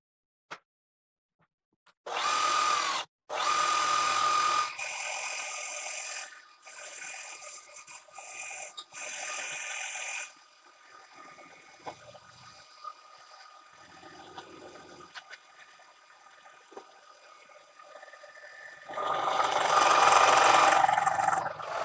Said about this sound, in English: let's get set up and let's start milling the first one here